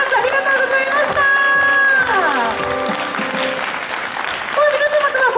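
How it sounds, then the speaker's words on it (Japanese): Sustained applause from a crowd fills the space, steady and loud, with music tones playing over it, at an outdoor photo session with the Kumamon mascot in front of Hakata Station, Fukuoka, during the Tour de Kyushu cycling event. "皆様に今一度大きな拍手をお願いいたします"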